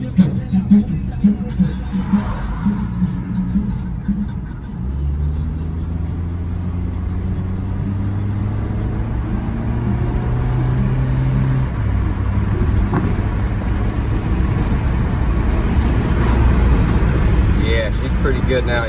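A Honda car's engine drones steadily while it drives a lap at speed, held in limp mode and shifting at about 4,000 RPM, with rising and falling pitch, road and wind rumble, and a voice talking intermittently.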